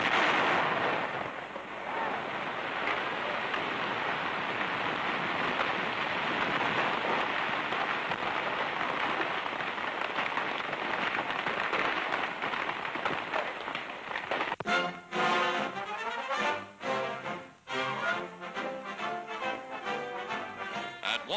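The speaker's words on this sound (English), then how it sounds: "they plant tons of dynamite to blast a bed for the pipe beneath the river's bottom" A wartime newsreel track carries a dense, sustained roar of crackling and rumbling as dynamite blasts a pipe bed beneath a river bottom, ending in a few sharp bursts and choppy bangs.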